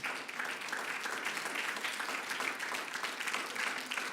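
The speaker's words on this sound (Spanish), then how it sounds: "Dele un fuerte aplauso al Señor." Steady applause from a church congregation fills the room, dense continuous clapping at even loudness throughout, with no voices over it.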